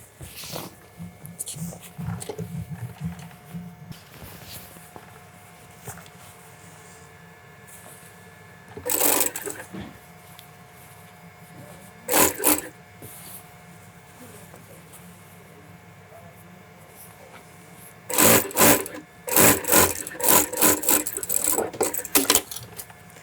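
An industrial sewing machine top-stitches a bespoke shirt in a London shirtmaking workshop, firing in several short whirring bursts, the longest cluster near the end, between quieter stretches of room noise and faint talk.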